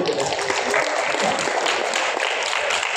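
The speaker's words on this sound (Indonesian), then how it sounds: "Tepuk tangan teman-teman." A conference audience applauds a government infrastructure official after a market-share figure: a full, even wash of clapping from many hands that holds at a steady level throughout, with no voices standing out.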